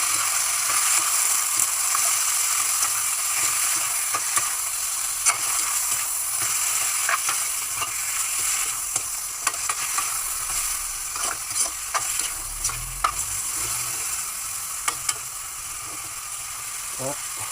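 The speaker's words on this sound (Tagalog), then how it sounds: "Lalagay na natin yung chicken." Chicken pieces for adobo sizzling in a hot pan, a steady low crackle with scattered pops and clicks throughout, close by, while someone speaks quietly over it at times.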